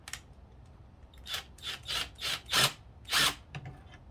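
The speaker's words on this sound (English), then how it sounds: "A 1/8 drill bit for the holes." A 1/8-inch drill bit bores holes into a PS3 console's plastic housing, a series of six short, grinding bursts of rising intensity close up, separated by brief pauses.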